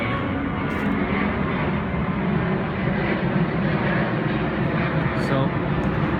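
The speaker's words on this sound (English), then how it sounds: "there's an airplane coming. It's gonna get loud." An airplane passes over a late-summer garden, a loud, steady broadband roar that fills the whole stretch without easing, with no talk over it.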